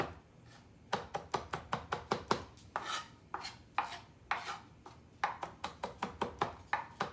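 Knife mincing fresh thyme on a cutting board, bursts of rapid, crisp chops in quick runs separated by brief pauses, close and distinct with no talking.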